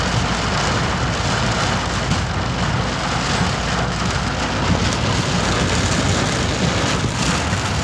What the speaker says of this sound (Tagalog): Grabe na ulan oh.